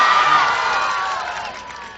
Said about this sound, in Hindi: हाँ जोरदार तालियां बजाइए फिर अच्छा लगे।